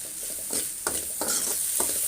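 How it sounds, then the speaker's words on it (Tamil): Small onions sautéing in a pan for a fish curry, a steady close sizzle with a few louder scraping stirs spaced through the short stretch, no voices. "இப்போ வெங்காயம் வதங்கிட்டு இருக்கட்டும்."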